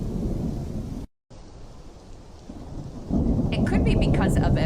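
A thunderstorm with heavy rain plays from a video: a steady, dense downpour with low rumbling thunder, a brief dropout to silence, then louder rain and crackling toward the end.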